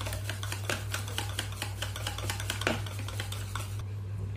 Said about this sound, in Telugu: సో దీనైతే లంప్స్ లేకుండా బాగా బీట్ చేసుకోండి